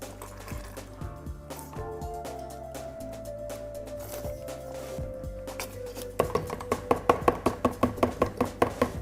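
Paint is transferred into a larger lidded container for stirring, giving soft liquid pouring and sloshing, then a run of quick, regular knocking or scraping taps near the end, close and moderate in level.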